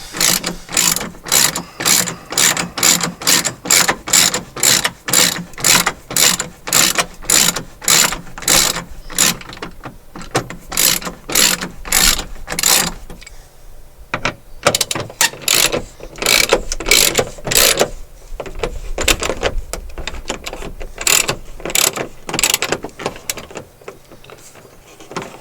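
Ratchet wrench clicking steadily in rapid bursts while loosening bolts inside the dash of a 2006 Jeep Wrangler TJ, close and loud, with brief pauses between runs of strokes.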